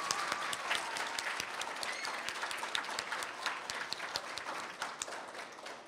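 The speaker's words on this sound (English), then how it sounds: "a huge round of applause" A school citizen-of-the-month gathering gives a warm round of applause, with continuous, even clapping from a moderate crowd heard from a distance at a low, steady level.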